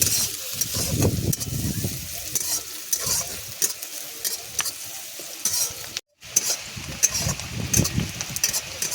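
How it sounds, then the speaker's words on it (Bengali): Onions lightly frying in a pan for a prawn and greens dish in a village kitchen, with a continuous sizzle under repeated scraping stirs and occasional utensil clinks, close up, with a brief dropout midway. "পেঁয়াজগুলোকে হালকা করে ভেজে নিচ্ছি।"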